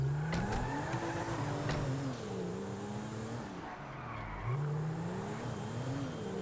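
A car driving in GTA 5, with a steady engine drone rising and falling as it accelerates and shifts, and a brief tire squeal, fairly close and continuous throughout.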